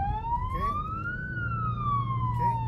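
A police siren wails, rising and falling in a slow sweep, loud and close over a low engine hum.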